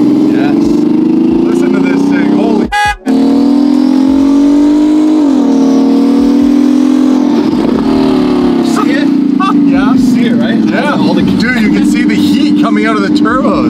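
A twin-turbo Ferrari F12 roars loudly through city streets in Los Angeles, its engine revving and climbing in pitch as it accelerates, with a brief dropout near the start and turbo whoosh toward the end.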